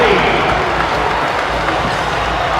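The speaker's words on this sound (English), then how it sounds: "This pro Siena crowd in Albany loving the start to this one." A packed home arena in Albany roars during a Siena versus Iona college basketball game, a dense, steady wash of cheering and applause with no break, loud and close throughout.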